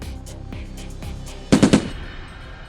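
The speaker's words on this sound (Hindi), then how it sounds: "जंगकुक बुगम और उसके अंकल को शूट कर देता है।" Gunshots go off, first as spaced single cracks and then as a quick loud machine-gun burst, with no talk over them.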